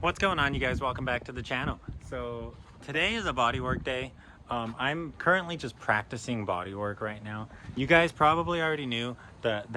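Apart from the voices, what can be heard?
No everyday noise stands out behind the speech.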